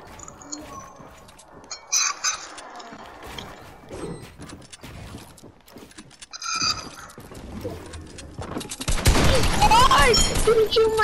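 Gunfire in the video game Fortnite, with scattered shots and clicks building into a loud, dense burst of firing near the end, under game sounds.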